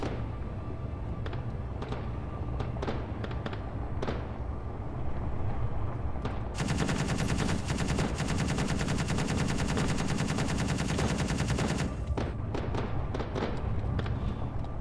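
Gunfire in the video game Conflict Europa: scattered individual shots first, then several seconds of sustained rapid automatic fire, then more sporadic shots, all fairly loud and close.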